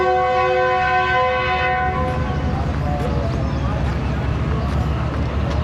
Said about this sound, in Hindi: रवाना होने लगी है ट्रेन। ज़बरदस्त डिपार्चर विसल के साथ।